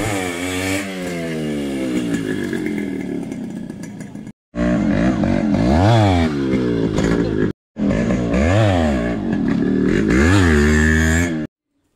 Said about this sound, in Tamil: வண்டியை நிறுத்தி வீலிங் பண்ணுறத விட ரன்னிங்கில் வீலிங் பண்ணுறது ரொம்ப ஈஸிங்க